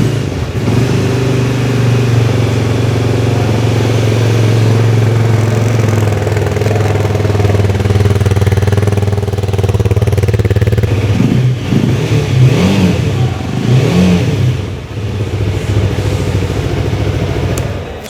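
A Dayun FX 300cc adventure motorcycle engine idles with a steady low throb, then is blipped through several sharp revs that rise and fall in quick succession, loud and close.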